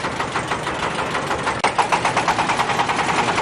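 A corn shelling machine's engine runs steadily at a national corn harvest in Tuban, a loud, close, continuous rumble with a fast regular pulsing beat and a brief jolt midway.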